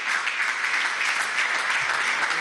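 A room at a meeting with Venezuelan governor candidates breaks into applause for Zulia state governor Francisco Javier Arias Cárdenas, a close, thick, unbroken wash of clapping with no voices standing out.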